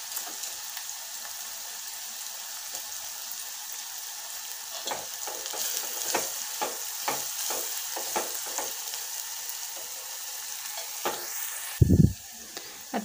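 Green chillies sauté in a hot pan for gargatta, giving a steady close sizzle with repeated scraping and stirring clicks and a sharp clatter near the end.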